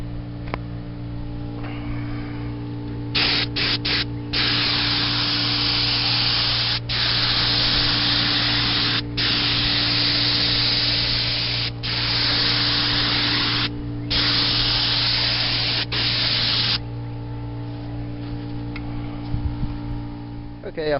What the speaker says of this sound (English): I'm also going to spray the axles.